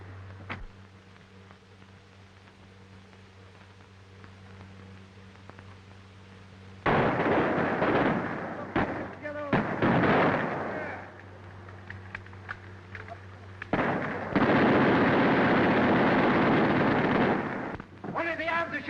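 Battle gunfire in an old black-and-white-era war film about a fort attack, dense bursts of shots and blasts in two long loud stretches, with quieter dialogue and hum before and between them.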